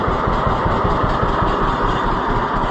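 A John Deere B tractor engine idles loudly and close by after a cold start, a steady rough chugging pulse that holds without break, with no talking.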